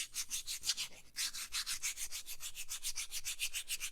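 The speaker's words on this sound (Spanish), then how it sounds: "con esta lija vamos a eliminarlas" Rhythmic back-and-forth scratching of sandpaper smoothing a burnished leather edge, steady strokes close up with a brief pause near the start.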